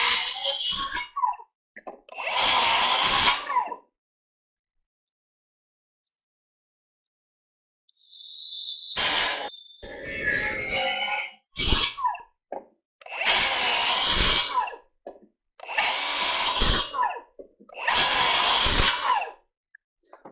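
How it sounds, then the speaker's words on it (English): A circular saw notching wood rafters, cutting in loud, close bursts: a short whine, then several two-second cuts separated by pauses and a long silence, with clunks of the blade and wood between passes. "when you're notching out with a circular saw"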